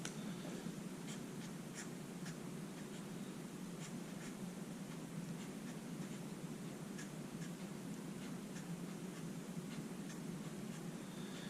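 Marker tips scratch and tap steadily across paper as someone draws with Sharpies, a continuous fine scratching with frequent small ticks over a constant low hum, close and fairly quiet.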